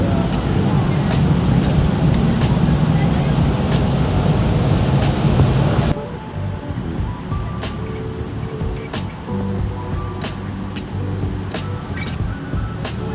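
Busy night traffic on a Jakarta street, motorbikes and cars streaming past in a steady loud rush that drops to a quieter, more distant hum halfway through.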